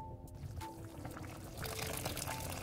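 Hot water pours into a pot of chicken seaweed soup, a quiet continuous splashing stream that grows slightly fuller partway through, heard alone at close range.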